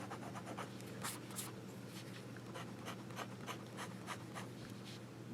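A Waterman Taperite fountain pen writes on paper with a faint, close scratching of nib strokes in short, uneven bursts over a low background hum.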